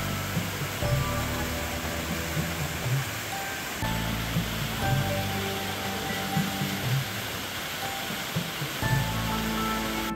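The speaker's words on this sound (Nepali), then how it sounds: "बाटोमै हामीले एउटा झरना भेट्यौँ" A waterfall along the trail to Ghandruk near Pokhara rushes steadily as a broad continuous hiss, with faint intermittent tones and rhythmic thumps underneath.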